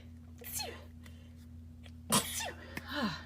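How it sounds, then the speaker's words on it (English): A single sharp sneeze bursts out near the middle, preceded by a short breathy intake, with a steady low hum underneath. "I gotta sneeze."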